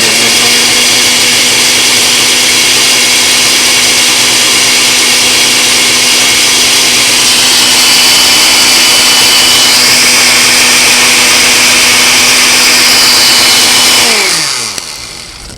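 A blender runs steadily on cream cheese, cinnamon and stevia with a loud, constant motor whine, its pitch shifting slightly partway through before winding down and stopping near the end.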